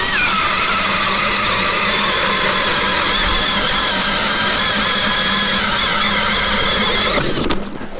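A Jiffy power ice auger drills steadily through about 10 inches of first ice, a loud continuous engine whine with squealing grind held close for several seconds before it breaks through and eases off at the end.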